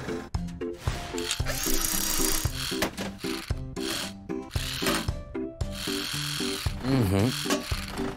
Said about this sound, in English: A screwdriver will do the job.